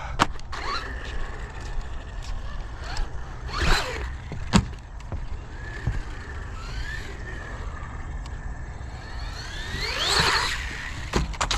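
Electric motor of an RC car whining and surging in uneven bursts as the throttle is feathered, with a louder rising whir near the end over steady background noise.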